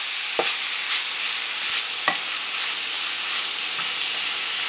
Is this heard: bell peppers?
yes